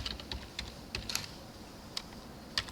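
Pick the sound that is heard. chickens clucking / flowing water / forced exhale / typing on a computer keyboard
typing on a computer keyboard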